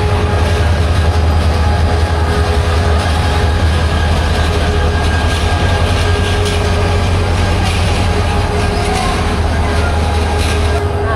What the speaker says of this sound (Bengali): চলে আসলো আমাদের ট্রেন।